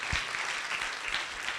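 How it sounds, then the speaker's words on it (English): An audience claps for federal workers at a gathering: dense, steady applause from many hands, filling the whole short stretch with no voices on top. "Y'all clap your hands for these people."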